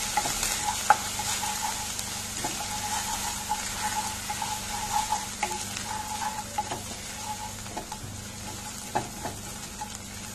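Crushed ginger and garlic frying in a pan for vegetable kurma, a steady crackling sizzle with frequent sharp clicks of a spoon stirring against the pan.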